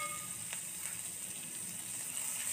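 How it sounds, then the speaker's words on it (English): Butter sizzles in a hot pan with a steady, close hiss and crackle that holds at an even level throughout. "we're going to cook sauce in a hot pan, put our butter"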